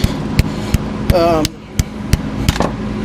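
A piston is tapped down into an ISX diesel engine cylinder with a series of short, sharp taps at a steady rhythm, loud and close, with a brief voice partway through.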